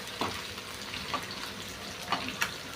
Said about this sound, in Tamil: கொஞ்சம் வெடிக்குது, கொஞ்சம் தூரம் நின்று திருப்புங்க, கொஞ்சம் தள்ளி நின்று திருப்பிங்க.